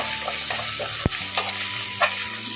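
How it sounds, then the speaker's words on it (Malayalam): Garlic sizzles steadily in a hot pan while a utensil stirs it, with a sharp scrape near the start and a few softer clinks after. "ഗാർലിക്കിൻ്റെ ഒരു ബ്രൗൺ കളർ ആവണ വരെ ഒന്ന് വഴറ്റി കൊടുക്കാം കേട്ടോ."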